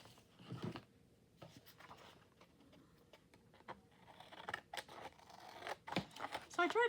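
Scissors snip through paper in a few short, crisp cuts, with rustling and handling sounds in between, close and fairly quiet.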